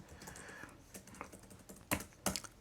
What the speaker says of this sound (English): I keep hitting the escape. I have to use this keyboard.